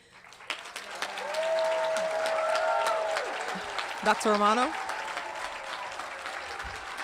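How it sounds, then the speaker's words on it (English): Audience applauding the graduating class at the Malverne High School 2020 graduation ceremony: sustained clapping from a large crowd, with a voice speaking over it. "Parents, I invite you to applaud the class of 2020."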